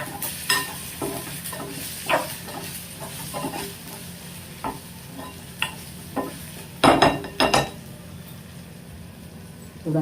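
Boiled egg bhurji sautéing in a pan: a steady sizzle runs throughout, broken by scraping stirs and several sharp clinks of a utensil against the pan, with a louder burst of clattering near the end.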